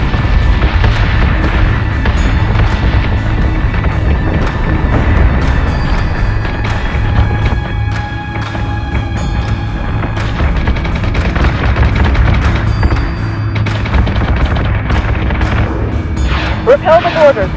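Cannon fire and explosions in the space combat game Battlestar Galactica Deadlock, repeated loud booms and blasts over a dense rumbling battle din, with radio-style voices talking throughout.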